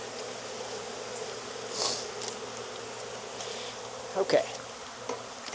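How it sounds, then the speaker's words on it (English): Honey bees hum steadily around an open hive in Jacksonville, Florida, a dense continuous drone with a few close buzzing passes and a short spoken word near the end. "There's a lot of bees."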